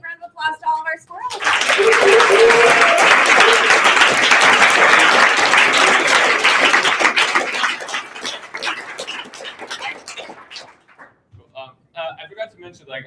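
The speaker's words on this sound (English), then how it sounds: "One more big round of applause to all of our squirrels." Graduation audience at a coding bootcamp ceremony breaks into loud, sustained applause with whoops and cheers. It swells quickly, holds steady for about nine seconds, then thins out into scattered claps and voices.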